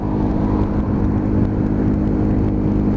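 A Lexmoto ZSX-F 125 motorcycle engine hums at steady revs for a few seconds, a loud close drone with no talking over it.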